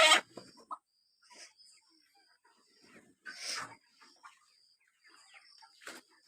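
Chickens cluck and squawk in short, scattered bursts as they are grabbed by the wings during a chase, with a sharp loud squawk at the start and another near the end, close by.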